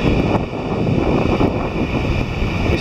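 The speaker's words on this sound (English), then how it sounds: "It's the breaking waves hitting the rebounding wave." Breaking waves crash into rebounding swell on a stormy sea at Porthleven, a dense roaring surge under strong wind noise, continuous with no voices.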